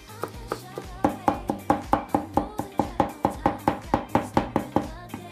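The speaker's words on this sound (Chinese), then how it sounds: "大蒜、切末。" Kitchen knife mincing garlic on a cutting board, a quick steady run of about twenty sharp close chops that speeds up into an even rhythm, alone without talk.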